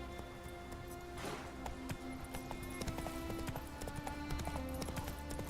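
Roach the horse's hooves clip-clop in a steady, close gallop rhythm in the Witcher 3 video game, running the whole stretch over a bed of game music and ambience.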